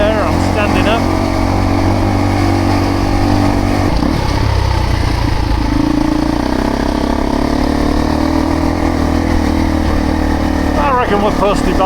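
A 350 Discovery motorcycle climbing the Mongatapu Track trail between Pelorus and Matai Valley, its engine droning steadily close by with shifting revs, while a rider talks over it throughout.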